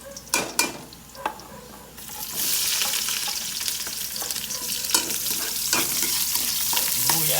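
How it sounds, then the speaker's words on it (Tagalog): Garlic sautéing in a pan: a few sharp utensil clatters, then a steady loud sizzle of frying that continues with occasional stirring scrapes, no voices. "manggigisa na tayo mga lods. Bawang."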